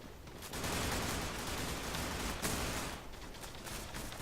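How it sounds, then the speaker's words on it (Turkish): Fireworks in the online shooter Zula: a dense, crackling barrage of rapid pops and bursts sustained throughout, loud and close, with no speech. "Havai fişek bırakıyorum etrafa."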